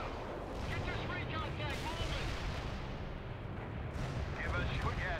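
Artillery pounds away in the video game World in Conflict, a loud, continuous rumbling barrage with overlapping blasts, while radio voices talk over the battle noise.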